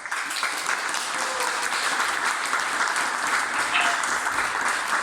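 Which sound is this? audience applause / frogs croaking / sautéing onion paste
audience applause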